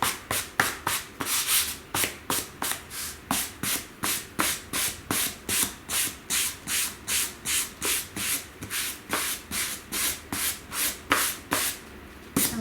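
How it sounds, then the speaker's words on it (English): A distressed wood sign is hand-sanded using the flat sides and edges, giving steady back-and-forth rasping strokes, about two each second, close and clear, with no talking. "I use the flat sides and the edges to do my sanding."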